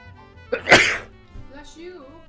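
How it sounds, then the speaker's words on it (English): A single loud, close sneeze bursts out once, with a soft voice heard faintly afterward. "I need to sneeze."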